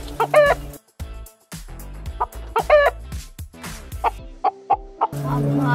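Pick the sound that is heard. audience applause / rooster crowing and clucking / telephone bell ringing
rooster crowing and clucking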